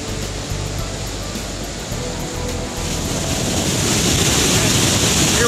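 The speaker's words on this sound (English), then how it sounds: "we are at the precipice of Niagara Falls." Niagara Falls roars at its precipice beside Luna Island as a steady, loud broadband rush, with wind buffeting the microphone and the roar swelling slightly toward the end.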